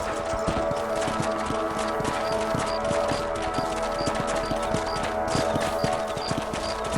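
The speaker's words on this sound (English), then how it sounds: "Let's get back on the horses and see what else is going on." Horses galloping in the Red Dead Redemption video game, with rapid rhythmic hoofbeats clattering steadily over ground, close and continuous, backed by a faint tonal game score.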